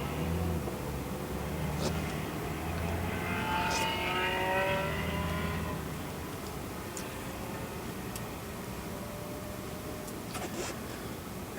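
An Audi R8 pulls away steadily on a race track, its engine note rising in pitch under a continuous broadband road and wind roar, with faint clicking sounds scattered through.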